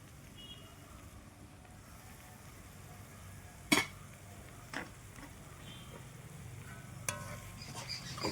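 Chicken pieces coated with salt, turmeric, chili and coriander powders being stirred in a frying pan for Kerala-style chicken perattu, a low steady sizzle with a few sharp spoon scrapes against the pan.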